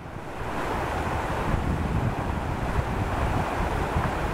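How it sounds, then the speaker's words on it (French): A forest stream flows somewhere below a hiking trail, giving a steady, broad rushing wash that holds even and unbroken throughout, with no talking. "On entend toujours le ruisseau en contrebas"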